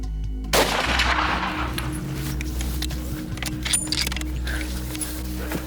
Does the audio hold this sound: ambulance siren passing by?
no